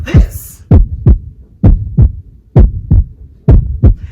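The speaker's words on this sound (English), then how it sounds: "that was a heartbeat." A heartbeat thumps in clear lub-dub pairs, five double beats at a steady, slightly quick pace, deep and loud against near silence, after a brief whooshing swell at the start.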